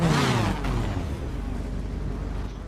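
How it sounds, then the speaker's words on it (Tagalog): A motorcycle engine in a video game (GTA 5 roleplay) revs up sharply and then settles into a steady whirring drone, loud and close, with no talking. "ingay agad ng motor ko"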